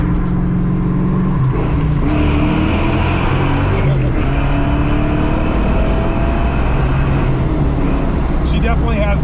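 Vortech-supercharged Foxbody Mustang GT revving inside a tunnel, a loud, sustained engine drone climbing in pitch with the roar echoing off the walls, while people talk over it.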